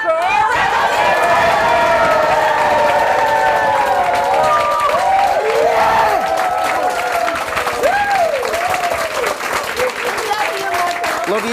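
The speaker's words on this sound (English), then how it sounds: "the loudest clap for Mr." A crowd at a sales mastermind event claps and cheers loudly for a speaker named Marco, a dense, continuous wash of applause with shouts and voices rising over it throughout.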